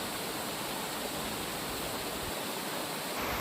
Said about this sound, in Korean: 평화는 잠시 작은 시냇물이 큰 폭포가 되어 흘러내립니다